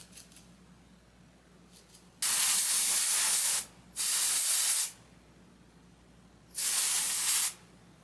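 Aerosol hair colour sprayed onto the roots of copper crochet hair, three close, loud hissing bursts of about a second or two each, separated by quiet pauses.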